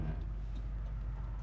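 A 1969 Ford Mustang convertible engine idles with a faint, low, steady rumble and a light ticking over it, heard alone and at a distance.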